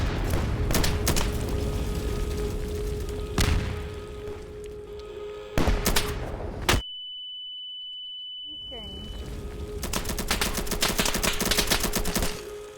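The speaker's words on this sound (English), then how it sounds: "Alright, I'm taking heavy fire." Heavy gunfire in an online multiplayer shooter with snipers, loud dense crackling shots in bursts, a sharp pause with a steady electronic tone, then the barrage resumes.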